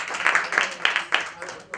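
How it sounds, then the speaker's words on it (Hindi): An audience at a Hindi-language self-employment and ayurvedic product seminar claps in a few short, uneven bursts, fairly close and loud, over a brief moment. "जोरदार ताली दें सभी के लिए"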